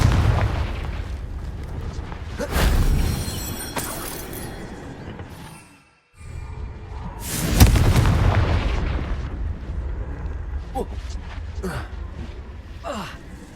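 A Confringo fire spell in Hogwarts Legacy blasts rocks with two heavy booming explosions, each with a long rumbling tail and crumbling debris, under game sound effects and brief spoken words.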